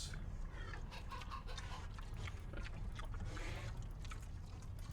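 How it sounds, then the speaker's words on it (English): Ghost chickens cluck in The Secret of Monkey Island: The Special Edition, a quiet, continuous, overlapping chorus of clucks and squawks with no talking. "Ghost chickens."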